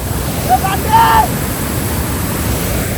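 Steady broadband rush of water from a hidden waterfall, loud and continuous and close, with a brief voice heard over it.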